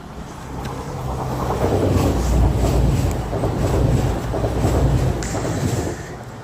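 A CrossCountry passenger train bound from Manchester Piccadilly to Bournemouth rumbles past at close range, a broad, steady roar that swells and eases over several seconds, with wind buffeting the microphone.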